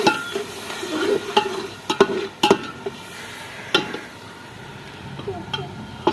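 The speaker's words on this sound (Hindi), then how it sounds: "अभी जी हमारा अदरक लहसुन डाला जा रहा है।" Ginger and garlic fry and sizzle in a pan as a utensil stirs, with scattered sharp clinks and scrapes against the metal over a steady crackle.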